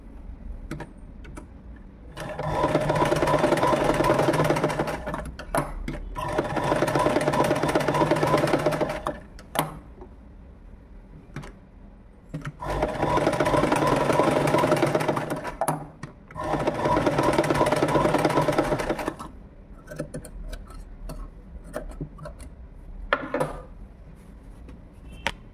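Sewing machine stitching pieces of an umbrella frock, running in three long loud bursts separated by pauses with small clicks and handling noises between runs.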